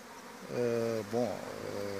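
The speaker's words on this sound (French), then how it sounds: "comme vous voyez, c'est un essaim" A swarm of honeybees buzzes loudly and close by, a continuous hum that swells and wavers over two seconds with no voices.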